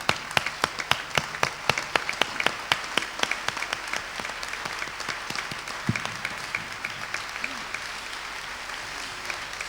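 A church congregation applauds during a worship service, with sharp, fairly rhythmic hand claps over a soft crowd murmur. The clapping is moderately distant and thins out toward the end.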